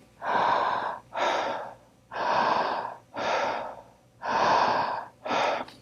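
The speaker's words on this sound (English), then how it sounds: "after we breathe into our belly, we want to draw that breath up into our chest" Six deep breaths drawn into the belly and chest, close and clear, each a long airy inhale or exhale following the last with almost no pause, in a slow, even rhythm.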